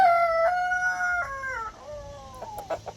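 Rooster crows a long, loud cock-a-doodle-doo, then gives a few shorter clucking calls, close by with no voices.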